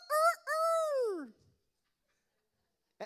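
A human voice imitates a toy rooster crowing, two short rising cries followed by a long drawn-out wavering crow that falls away, loud and close, then silence.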